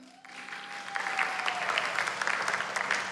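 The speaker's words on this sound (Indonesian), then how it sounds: "Tepuk tangan." Applause from an audience at a talk on smart riding and budgeting, clapping that swells after a moment and holds steady, with a faint tone and murmur beneath.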